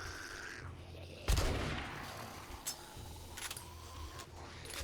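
Gunfire in the zombie survival game 7 Days to Die during a horde night base defence: one loud, heavy burst of shots, then a few fainter scattered shots over steady background noise.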